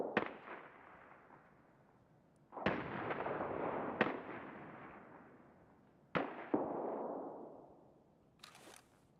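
Grenade explosions in the shooter game Escape from Tarkov, several sharp booms that each fall off into a long rumbling decay, spaced a few seconds apart, fairly distant, followed by a short crackle, no talk.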